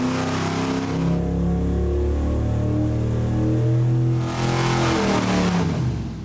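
A car engine holds steady on a dynamometer with the oil at 180 degrees, a loud continuous drone that swells slightly in the middle and carries no speech.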